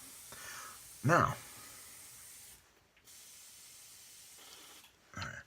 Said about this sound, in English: I'm going to backfill that, and I'm going to spray that out.